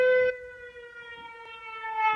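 Civil defense air raid siren in Ukraine, a steady wailing tone with strong harmonics that holds on, loud and continuous, with a small dip near the start, sounding alone without talk.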